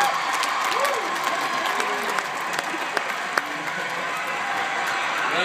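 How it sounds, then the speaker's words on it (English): A large university audience gives sustained clapping to welcome a guest speaker, a dense, steady wash of applause with a few scattered voices and sharper claps. "Please join me in welcoming to Liberty University, Tim Tebow."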